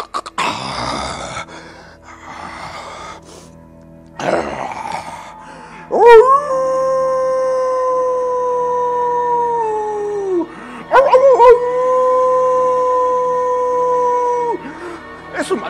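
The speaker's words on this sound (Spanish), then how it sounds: "¡Es un maldito hombre lobo!" A werewolf howling sound effect in a monster-hunter story: two long, loud, sustained howls, each rising then holding and dropping away, preceded by brief rustling noises.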